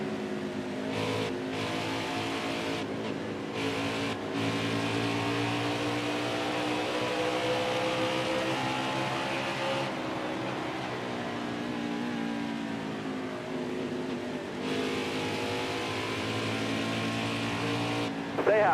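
Race car engines in a racing video game drone and whine continuously at steady loudness, with pitch rising and falling as cars pass close by, and a voice speaking briefly over the engines.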